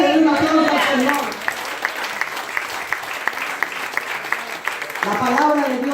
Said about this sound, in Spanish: Aleluya, un aplauso al Señor.